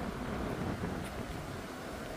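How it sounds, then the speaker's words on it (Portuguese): Steady wind blowing off an icy river along the Alaska Highway in British Columbia, a constant close rushing noise with no voices. "E o vento, gente, vindo do rio gelado."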